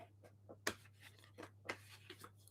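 Soft papery rustles and quick card snaps from tarot cards being shuffled come in short bursts, close by and fairly quiet, with a steady low hum underneath.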